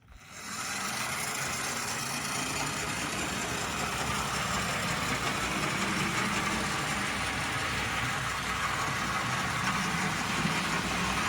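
An old Bachmann HO-scale 2-10-4 Texas model locomotive runs along its track, giving a steady, continuous motor whir and hum that holds at an even level throughout, with no talking.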